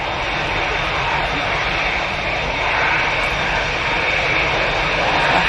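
Lufthansa airliner departing Manchester Airport for Frankfurt, a sustained roaring jet engine rush that builds slightly toward the end, loud and steady, with talk over it.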